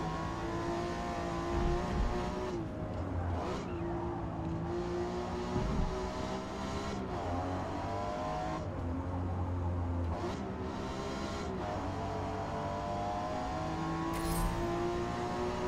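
The engine of a Mazda in the Forza racing game revs and drones continuously while the car slides, rising and falling in pitch. The roar is steady and moderately loud, with no talk over it.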